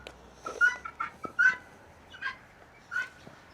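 Guinea hens calling inside a farm pen, with a few short, sharp squawks and chatters spaced irregularly, moderately close but fairly quiet, over a low background hum.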